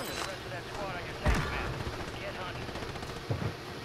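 Call of Duty gunfire: rapid automatic bursts with a couple of sharper, louder shot impacts standing out, set against the game's background din.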